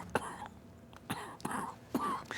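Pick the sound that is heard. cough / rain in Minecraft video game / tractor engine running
cough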